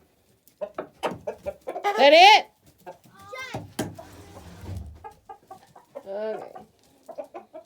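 Chickens on a small farm with beehives, clucking in short bursts among voices of adults and someone speaking nearby.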